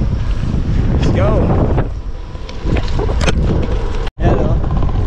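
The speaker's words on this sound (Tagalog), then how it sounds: "Medyo malakas ang ating kasalubong na hangin." Strong headwind buffets the microphone during a ride, a loud continuous roar with gusty swells and a brief dropout near the end, with a voice speaking over it.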